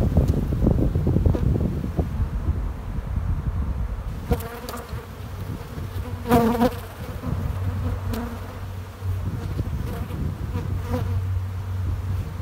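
Honey bees buzz around small hives being boosted by the newspaper method, a steady close hum with individual bees droning past the microphone over light wind.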